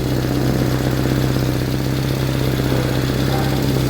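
A steady, rough idle from a Renault 1.6 car engine with an exhaust leak, a rapid rhythmic puffing from the exhaust, continuous and close, no voices.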